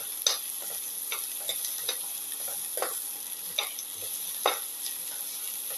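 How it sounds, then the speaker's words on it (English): Onion, garlic and shallot mixture sautéing in a pan, with a steady soft sizzle under repeated scraping and stirring strokes of a utensil, near and fairly quiet, no talk. "Keep on sauteing. Thoroughly sauteing it."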